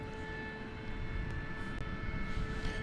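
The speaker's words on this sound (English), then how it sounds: "That's a 787-9 Dreamliner going back to Sydney" A Qantas-style kangaroo-tailed 787-9 Dreamliner bound for Sydney from DFW at night makes a faint, steady jet roar in the distance, with a few high whining tones and no talk.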